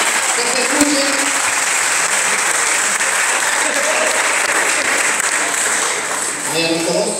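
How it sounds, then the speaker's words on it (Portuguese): Loud, sustained audience applause at a summer axé music show, thick crowd clapping with voices calling out over it and talk rising near the end. "Fuerte aplauso para ellos, por favor, ahora."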